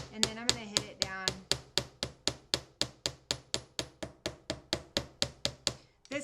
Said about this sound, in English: I am still kind of tilting the hammer just a little bit to make sure that that rivet material is going down